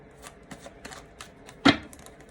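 A few soft card riffles tick by, then one sharp, louder riffle as a deck is shuffled close up.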